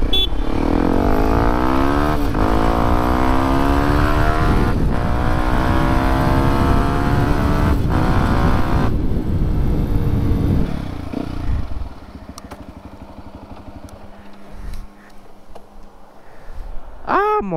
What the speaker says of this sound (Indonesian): ini mah cuma motor 4 tak om